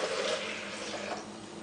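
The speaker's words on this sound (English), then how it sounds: "So that's 4 cups of water going into the blender." Four cups of water pouring into a Vitamix blender, a brief splashing rush that is strongest at the start and then settles, fairly quiet and heard alone.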